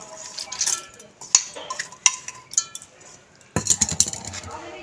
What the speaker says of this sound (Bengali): বাটি নিয়ে নিয়েছি, বাটির মধ্যে ডালটা দিয়ে দেবো